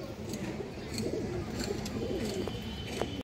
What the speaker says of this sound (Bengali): এই দেখেন কবুতর দর্শক, এই যে দেখেন চট বানের কবুতর মাশাআল্লাহ